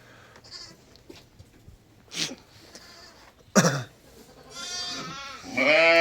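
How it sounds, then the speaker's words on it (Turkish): Newborn lambs bleat on a farm, with a couple of loud, wavering cries standing out over a quiet background and a louder, sustained bleat rising at the end; no one talks. "Orada da kuzularımız var. Yeni doğanlar."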